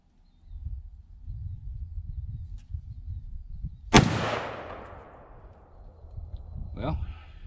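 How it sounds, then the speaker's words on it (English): A single sharp AR-15 rifle shot fired from a clean bore at a target breaks a low outdoor rumble, its loud crack decaying over a couple of seconds, followed by a brief faint sound near the end. "I'm gonna take the first shot at center target just to see where our initial impact is"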